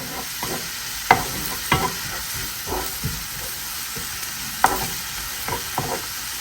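Spinach and cheese filling for Indian-style cheese naan fries in a pan with a steady soft sizzle and hiss, broken by scattered clicks and taps of stirring.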